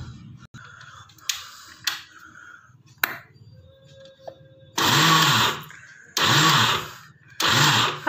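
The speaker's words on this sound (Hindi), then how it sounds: "अब हम इन्हें दरदरा कूट लेते हैं अपने मिक्सी की जार में" A kitchen mixer grinder jar coarsely grinds sesame seeds in three short loud whirring bursts, separated by pauses, with softer clicks and handling noises before them.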